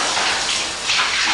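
Brief, steady rush of shower water spraying down, close and continuous with a slight dip midway.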